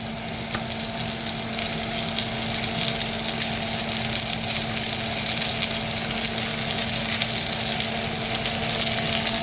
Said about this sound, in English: We want to put our onions in, brown those up.